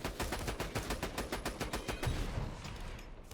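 Sustained automatic gunfire emptying a magazine in the video game Borderlands 2, about a dozen evenly spaced loud shots in a steady rapid rhythm, alone without talk, trailing off near the end.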